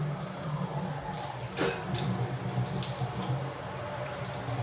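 Warm shower water runs steadily in a continuous splashing hiss, close and fairly loud, with a brief sharper burst early on.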